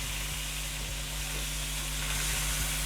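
Three large tomatoes hiss and sizzle in a hot pan of mutton taka tak, a steady, even frying crackle that holds at a moderate level with no talking.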